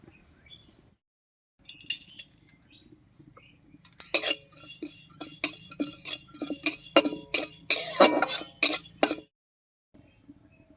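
Dry panch phoron spices toasting in a hot wok over a stove, a dense run of crackling pops and sharp clinks lasting several seconds, close and fairly loud, between quieter stretches of low room noise.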